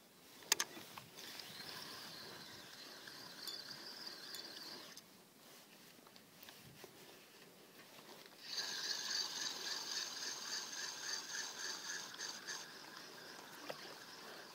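A feeder fishing reel winds line back in after a cast. A faint, steady ratcheting whir runs throughout, drops briefly, then returns louder and more even, with quiet outdoor ambience around it.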